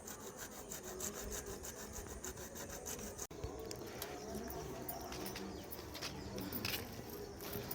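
A saw cuts through a pipe outdoors to fit a joint before soil is shovelled back over it, giving a steady, continuous rasping of close strokes, with doves cooing and other birds in the background.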